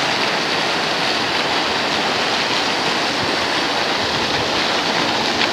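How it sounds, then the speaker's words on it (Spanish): Water rushes steadily at a spot in the town of Navalcarnero near Madrid, a loud, close, unbroken roar like a small waterfall or fast stream, with no voices over it. "El sonido del agua, como siempre,"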